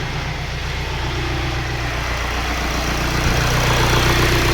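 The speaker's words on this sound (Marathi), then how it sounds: "हे बघा मित्रांनो, झालेली गाडी चालू." An Audi A4 idles steadily after its chewed wiring harness was repaired, a continuous low engine hum with a constant rhythm that grows slightly louder near the end.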